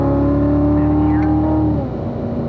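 A race car engine pulling hard in fifth gear on a race track, a loud, close, steady high-revving drone that holds pitch, then dips slightly near the end.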